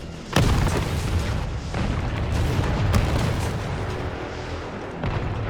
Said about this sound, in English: That's a big rocket launcher.